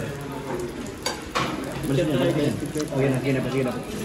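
Food stirred in a frying pan sizzles softly with scraping strokes and a couple of knocks, while people talk over it.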